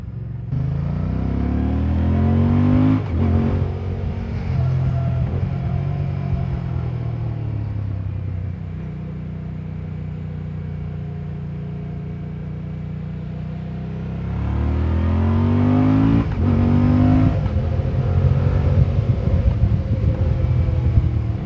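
A 2024 Moto Guzzi Stelvio motorcycle engine revs up through its gears, rising in pitch, then settles to a steady drone before accelerating hard again, loud and close.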